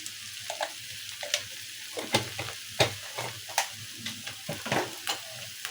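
Teasel gourd (kakrol) masala fry cooking in a pan, with steady sizzling broken by repeated spatula scrapes and stirring knocks in an uneven rhythm, close and moderately loud.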